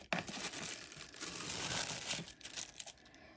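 Chanel makeup packaging being opened, with close, bright crinkling and rustling of paper or plastic wrap that runs continuously for a few seconds.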